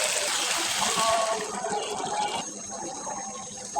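Liquid pours into a pot of Sonali chicken curry to make the gravy, a close, steady gushing splash that tapers slightly as the pour continues for a few seconds.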